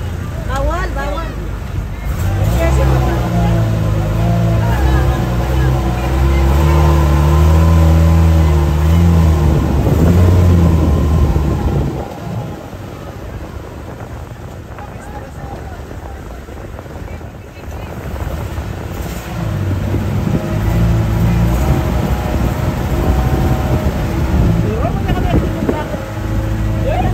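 Several motorboat engines drone and rumble steadily nearby at Donsol, Philippines, swelling and easing as they circle, with background chatter from people throughout.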